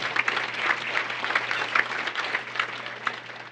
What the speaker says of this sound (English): And a big round of applause to IMG.